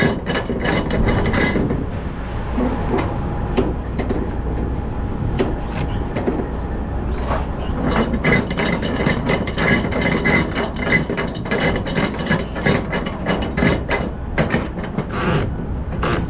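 A ratchet strap is cranked down over a load on a Peterbilt 389 truck, a close, loud series of rapid metallic ratcheting clicks and clanks repeating steadily in bursts throughout.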